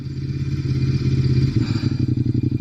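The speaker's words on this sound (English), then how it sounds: "The Ducati L-Twin engine, man, it's similar to like that Harley feel, where you can feel the bike working and moving" Ducati Monster 821 motorcycle from 2016 with an L-Twin engine runs close by, a deep steady rumble that shifts about halfway into a throbbing, pulsing beat, with no talk over it.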